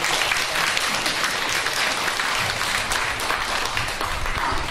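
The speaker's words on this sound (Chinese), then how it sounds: "我们再掌声鼓励一下" Guests clap at a photography exhibition opening tea reception, a sustained round of applause with many overlapping hands, steady and fairly loud throughout without pause, no one speaking over it.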